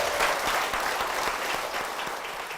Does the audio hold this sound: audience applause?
yes